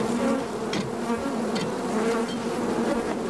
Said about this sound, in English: Yeah, Rebo, these are your killer bees